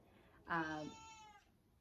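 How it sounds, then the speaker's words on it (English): A hungry cat lets out one clear, drawn-out meow close by, rising and then trailing off over a quiet background. "Here comes the cat, hungry."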